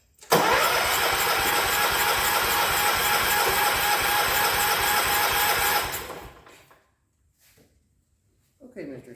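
A 1985 John Deere 212 lawn tractor engine, running on leftover fuel, catches and roars loudly with a steady throbbing chug for several seconds, then winds down to silence before brief clatter.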